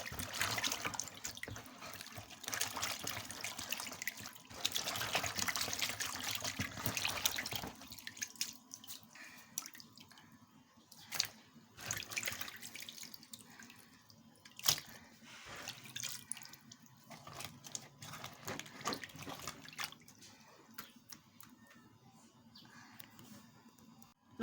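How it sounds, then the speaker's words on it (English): Dried fish being washed in a basin of salted water, with water sloshing and dripping steadily at close range throughout, busier and more continuous at first and then thinning to intermittent splashes and drips, with no talking. "It's dried fish, so I will have to wash it, and I also add little salt in washing the fishes."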